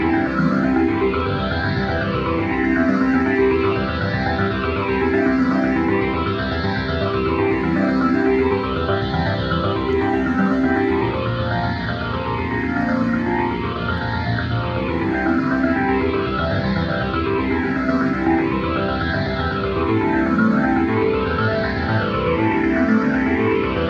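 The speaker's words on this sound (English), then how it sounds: "I'm going to put key hold on here. I think this is suited to an arpeggiator." A Roland JD-XA synthesizer runs a held arpeggio with key hold engaged, a loud, continuous cycling pattern of rising and falling notes under chorus, distortion and echo effects, with no talking.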